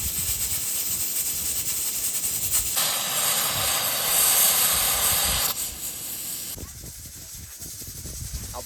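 A pressure cooker boiling peanuts with turmeric vents a loud, steady hiss outdoors in a village during rain, the burst swelling strongly midway and then easing back over a constant wash of background noise.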